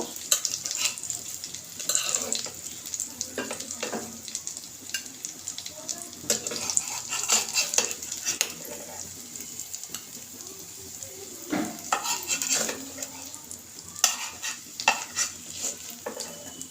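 Shidol shutki bora fry in a pan and are lifted out one by one, a soft continuous crackle of oil broken by scraping and clinking from the utensil against the pan, with occasional faint sounds in the background.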